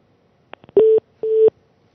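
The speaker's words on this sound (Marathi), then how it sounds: "मुनगंटीवारांचा फोन काही तांत्रिक कारणांमुळे आपल्यापर्यंत पोहोचू शकत नाहीये" Phone line tones from a call that fails to connect: a few short clicks, then two steady electronic beeps, each about a quarter second long, clear and alone against silence.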